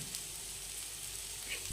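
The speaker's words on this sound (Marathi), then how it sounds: "आता मसाला व्यवस्थित परतलाय आपला, हे बघा तेल सुटायले" Homemade black masala with turmeric sizzling in hot oil in a pan, a steady close hiss of frying with soft crackles.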